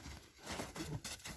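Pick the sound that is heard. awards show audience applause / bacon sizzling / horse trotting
horse trotting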